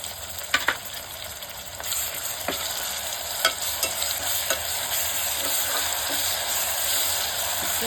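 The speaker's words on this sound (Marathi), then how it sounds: "ह्यात आता मिरची कोथंबीर आलं लसूणची पेस्ट मी वाटून घेतली होती ती आता घालूया" Onion frying in a pan with a chili, coriander, ginger and garlic paste, a steady broadband sizzle under repeated scraping stirs and soft spoon knocks, close and continuous with no talk.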